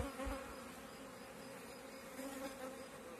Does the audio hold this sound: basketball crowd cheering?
no